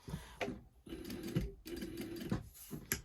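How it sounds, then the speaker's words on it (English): A sewing machine whirs in several short stitching bursts along a fabric skirt hem, with brief pauses between runs, close and fairly steady. "take this to my sewing machine, sew the edge of the skirt from one way to the other"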